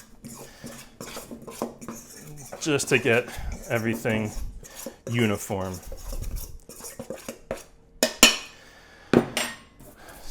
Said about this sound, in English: take the fork that you used for your flour and just mix it around.